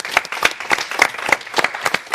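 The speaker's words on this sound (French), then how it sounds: "On va les applaudir, s'il vous plaît." Audience applause for a music duo introduced on stage at an artistic showcase, a brisk crowd of distinct hand claps with a few louder individual claps standing out, no talk.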